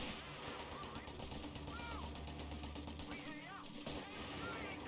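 Rapid gunfire and explosions fill a battle in the real-time strategy game Company of Heroes 3, a dense, continuous crackle of shots with whistling sounds over it, mixed with in-game voices.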